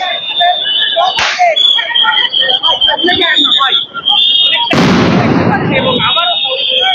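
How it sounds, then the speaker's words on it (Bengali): A police sound grenade bursts loudly near students during a clash at Shahbag, a sharp blast with a broad roar of crowd noise and shouting voices around it, a smaller pop heard earlier. "পুলিশ কিন্তু শিক্ষার্থীদের লক্ষ্য করে কিন্তু সাউন্ড গ্রেনেড নিক্ষেপ করছেন।"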